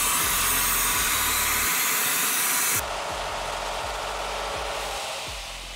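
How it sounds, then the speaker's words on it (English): Steady loud hiss and whoosh of pressurized air from a vacuum kit refilling coolant on a Range Rover hybrid, with a sudden drop in pitch partway through before continuing. "we're using this vacuum kit"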